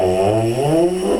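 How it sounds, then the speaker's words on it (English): Trombone mouthpiece buzzing as a warm-up, a loud, continuous lip buzz that wavers and slides in pitch, played alone without talking. "A great way to warm up at this stage is just to buzz on your mouthpiece for about 30 seconds"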